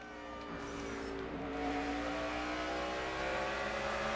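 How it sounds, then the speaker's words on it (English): NASCAR Car of Tomorrow race car lapping Bristol short track, a steady engine drone that builds and holds under throttle, heard from inside the car over constant road rumble. "So let's jump inside of this new race car and check out just exactly what it is to take a lap around Bristol."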